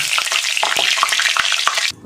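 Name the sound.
cumin and bay leaf sizzling in hot oil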